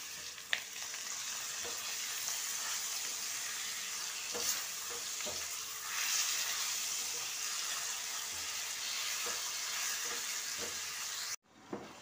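Chicken pieces for a curry sizzle and fry in hot oil in a pan, a constant dense crackling hiss with scattered pops and occasional stirring clinks, close and fairly loud, with no talking.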